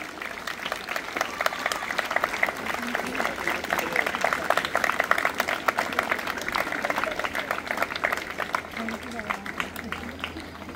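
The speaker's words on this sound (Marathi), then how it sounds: "विद्यार्थ्यांनी जोरदार टाळ्या वाजवायच्या आहेत." Students at a school ceremony welcoming Air Marshal Sunil Vidhate clap loudly and continuously as a large group, producing dense, sustained applause from start to finish.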